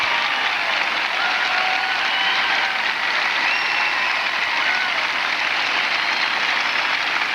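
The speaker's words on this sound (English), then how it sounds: "And listen to the applause" Arena crowd at the 1992 US Open Professional Figure Skating Championships giving a skater a hometown ovation, continuous roaring applause heard from a distance, loud and steady with no talk over it.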